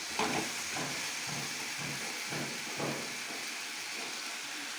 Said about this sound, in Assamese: এতিয়া অকণমান ভাজি লওঁ।